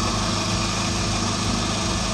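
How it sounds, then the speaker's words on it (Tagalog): A car engine idles steadily with a dense, even drone and a faint irregular pulse, heard close up under the hood while the air conditioning system is being checked for an erratic idle and RPM drop. "umaandar yung makina natin"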